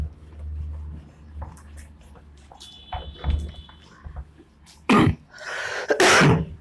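A couple of sharp, loud coughs burst out near the end after a quieter stretch of faint room noise and scraping.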